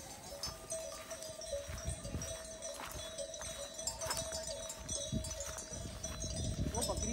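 Sheep and goats with newborn lambs bleat on open ground in the Kaladhungi range jungle of Uttarakhand, scattered calls near and far over rustling, shuffling and hoof sounds, with people talking throughout.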